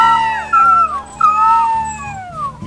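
Wolf pups in the WolfQuest 3 video game howl in thin, wavering, overlapping cries, several rising and falling calls that are loud and close.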